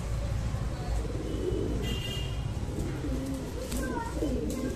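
Soft, low coos of Firozpuri pigeons murmur in the background while someone talks steadily over them.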